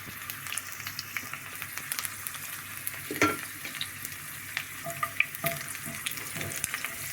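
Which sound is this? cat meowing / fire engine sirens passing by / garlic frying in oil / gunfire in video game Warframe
garlic frying in oil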